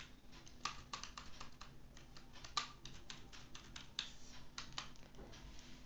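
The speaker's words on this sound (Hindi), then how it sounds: "कीबोर्ड से अल्ट और सी प्रेस करेंगे" Faint, quick clicking of a computer keyboard during accounting data entry in Tally software, with irregular close key taps and a few sharper strokes, no talking.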